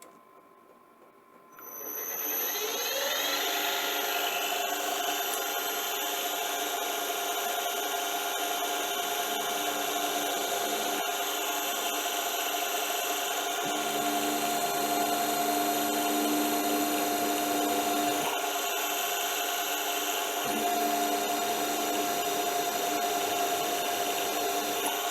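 A spiral-flute tap cuts a thread into steel, starting after a brief quiet moment into a continuous scraping, whining grind that runs steadily with slight shifts in tone.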